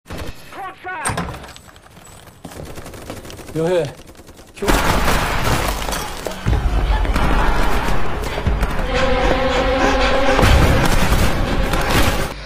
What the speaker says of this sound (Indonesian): Lalu muncul suara tembakan yang menembak semua orang secara brutal.